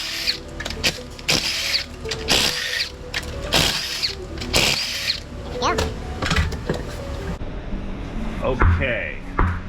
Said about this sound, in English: we've got 21 millimeters of impact socket here. Let's reverse NASCAR this wheel